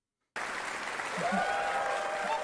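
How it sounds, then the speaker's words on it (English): Steady applause from a crowd starts abruptly after a brief silence and holds at an even level throughout, with faint tonal sounds running beneath it. "Let's get a round of applause"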